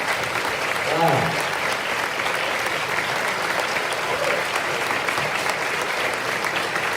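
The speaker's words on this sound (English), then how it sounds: "Let's give them our applause." Audience at a Poppy tribute show applauding service members, steady sustained clapping filling the room throughout, with a voice briefly audible over it.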